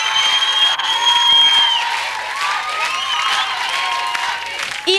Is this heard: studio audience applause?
yes